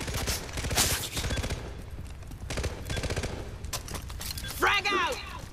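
Rapid bursts of gunfire in the co-op shooter game Far Cry 3, in repeated rattling volleys close and loud across the whole stretch, with a whooshing, sweeping effect near the end.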